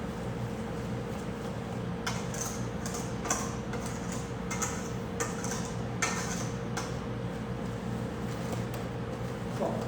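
Cinnamon and ginger are stirred into carrot cake batter in a bowl, giving irregular light clicks and taps of a utensil against the bowl over a steady low background hum.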